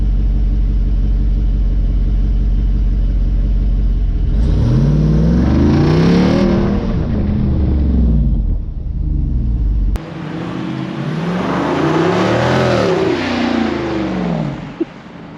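Jeep Wrangler 392 V8 revved while parked: a deep idle rumble swells into loud rising and falling revs, drops back, then builds into a second burst of strong revs, close and powerful with no talking.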